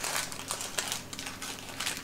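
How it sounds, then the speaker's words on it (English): Paper lining being peeled away from a freshly baked, cooled pumpkin crunch dessert, a continuous close crinkling and crackling rustle with brief louder tears, heard on its own without talk. "We are going to just peel this paper off, Lenora."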